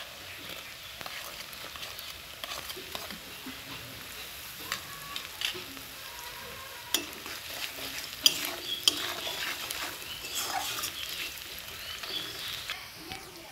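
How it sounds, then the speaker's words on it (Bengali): Onions frying in a pan with salt added, a soft continuous sizzle with scattered stirring scrapes and clinks, moderately quiet and close, no voices. "একটু ভাজতে হবে পেঁয়াজগুলো"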